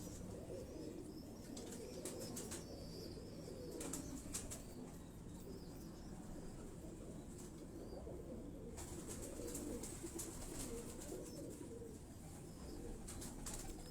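Pigeons kept as a rooftop hobby loft in Lahore take off and fly, with bursts of wing flapping and soft coos over steady outdoor background noise, close to moderately distant, with no talking.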